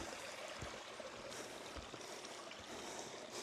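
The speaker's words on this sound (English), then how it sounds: "So the water comes from here, there's a stream here" Stream water flowing steadily at the top of Fluxfallet waterfall, a continuous broadband rushing wash at close range with no voices over it.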